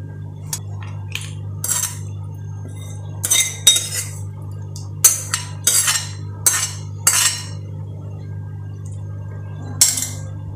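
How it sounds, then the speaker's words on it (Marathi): Chutney ingredients tipped into a mixer jar with a spoon, giving a run of sharp metallic clinks and scrapes in irregular bursts over a steady low hum, close and fairly loud, with no talking. "मिक्सरच्या भांड्यात टाकूयात आता हे सगळं."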